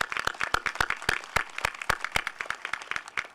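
Graduation crowd applauding at a high school commencement ceremony, a dense run of sharp overlapping claps at a steady, lively pace, moderately loud and continuous throughout.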